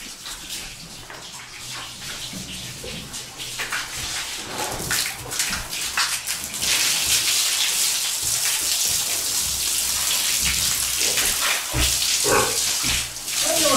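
A hose sprays water onto pigs and the floor of their pen, a loud continuous hiss and splatter that grows stronger partway through, with scattered knocks and splashes and no talking.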